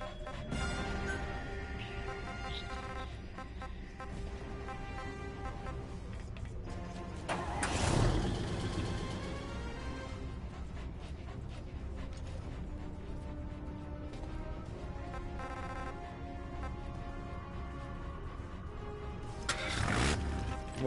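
A vehicle engine in a video game, a steady idling hum running throughout, with two brief louder surges or bursts standing out partway through and near the end.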